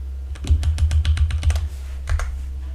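Rapid keystrokes on a computer keyboard while entering text in logo design software, a quick run of about a dozen crisp clicks, a short pause, then a few more taps, close and clear over a low steady hum.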